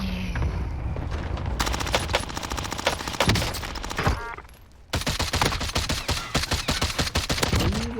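Rapid video-game gunfire from an MP5 submachine gun and a DMR rifle, dense bursts of sharp shots filling most of the stretch with a brief lull midway, loud and close.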